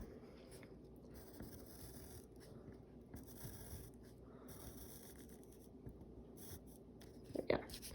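A pen scratches a line across paper during a guided math class practice, a faint, steady scraping stroke that runs quietly through most of the stretch, ending with a brief louder tap near the close.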